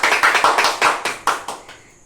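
A handful of people clap in rhythm during a birthday cake cutting at home, the sharp, close claps keeping a quick steady beat before thinning out and stopping.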